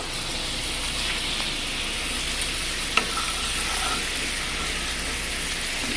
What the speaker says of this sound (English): I'm using coconut milk for the non-dairy. I'm going to mix that in nice and good.